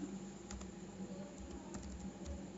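Java code being typed on a computer keyboard during a programming lecture: quick, fairly quiet clicking keystrokes in an irregular stream, close by, with no talking.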